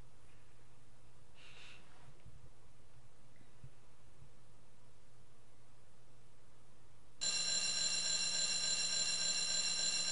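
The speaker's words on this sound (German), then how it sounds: "Fieser Wecker." Alarm clock ringing in the Harvest Moon A Wonderful Life video game, a sudden loud, continuous electronic ring that starts late after quiet ambience and holds steady to the end.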